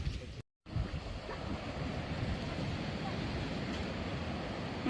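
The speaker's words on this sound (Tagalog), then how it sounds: "Sarap pakinggan ng dagat." Sea waves wash onto the shore in Batanes, a steady broadband surf roar with wind buffeting the microphone, continuous and fairly close after a brief dropout near the start.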